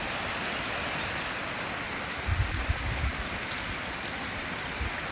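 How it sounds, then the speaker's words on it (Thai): Heavy rain falls steadily during a downpour at a home where floodwater is rising, a dense continuous hiss with a brief burst of louder low splashing near the middle. "ฝนตกทุกมื้อเลยพี่น้องน้ำสิท่วมเลย"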